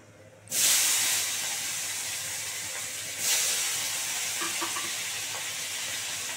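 Tomato drops into hot oil seasoned with black cumin and bursts into a loud, sharp sizzle, which settles into a steady hiss before a second fresh surge of frying crackle.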